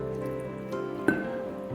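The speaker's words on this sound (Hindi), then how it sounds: "और दूध डालेंगे" Milk is poured into a bowl of egg, ghee, oil and salt for paratha dough, giving soft wet drips and a small splash, close and quiet, with no talking.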